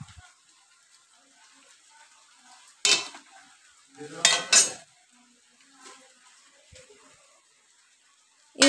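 Boiled chowmein noodles tossed with a little white oil in a pan, a few scattered scrapes and clatters of the spatula against the metal, two or three louder stirring bursts amid quiet stretches.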